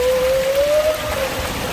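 Water rushes steadily and loudly around riders floating on a lazy river ride at Garden City Water Park in Phnom Penh, Cambodia, with a continuous close wash and splash and a brief whistling tone over it.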